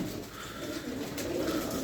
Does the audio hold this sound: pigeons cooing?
yes